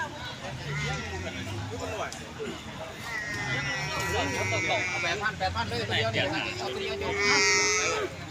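Water buffalo low and moo at a buffalo market, several drawn-out calls rising under and between people talking nearby, with a busy crowd background throughout.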